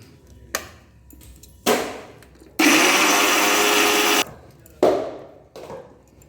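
A mixer grinder whirs loudly as it grinds green chillies, chopped ginger and a little water, one steady burst of under two seconds set among the close clatter of kitchen handling. No one speaks.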